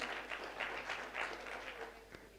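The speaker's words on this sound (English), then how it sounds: "Catholic University, can we clap for them?" Scattered audience clapping at a peace day gathering as a university is called out, uneven bursts that thin out and fade toward the end.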